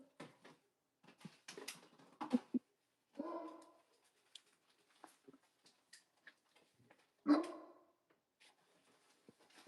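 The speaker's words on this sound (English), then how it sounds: "our dog's annoying" A pet dog barks in a few short muffled bursts at a distance, spaced apart with quiet gaps and scattered faint ticking noises in between.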